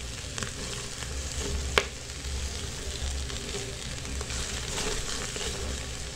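Garlic, bell pepper and onion sauté in a pan, a steady sizzle with occasional stirring scrapes and one sharp clink, continuous and close.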